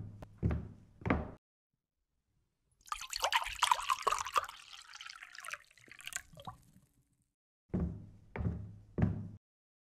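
Water poured into a glass, a trickling, dripping burst of liquid lasting a few seconds in the middle, with a few soft knocks of the glass being handled before and after, close and clear with no talking.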